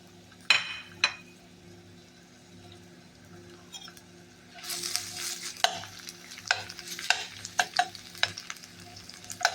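Chopped onions dropped into hot oil in a pan, starting with a few clinks and then breaking into a loud crackling sizzle with sharp bursts and stirring, close and without speech.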